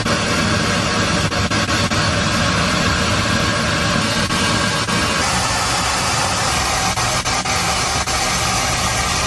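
Steady, dense broadband pink noise hiss filling the whole range, loud and constant with no pauses, a test signal from a tuning app playing alone for tuning a Kenwood car radio.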